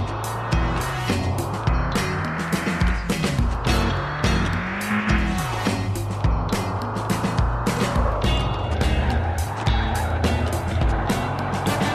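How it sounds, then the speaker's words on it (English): Car tires squeal continuously through a drift in a VR driving game, a loud, close engine roar rising and falling in pitch beneath sustained screeching skids, with no talking. "I'm gonna show you how to drive a car."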